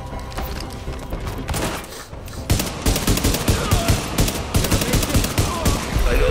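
Gunfire rattles through a firefight in Tom Clancy's The Division on Xbox One: loud, dense bursts of shots and booms layered over one another, growing heavier partway through and continuing to the end.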